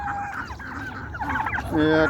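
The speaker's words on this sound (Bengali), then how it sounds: "এই যে টার্কি মুরগি" Turkeys and poultry call close by, warbling and honking, ending with a louder burst of rapid gobbling cries; a faint voice may be mixed in.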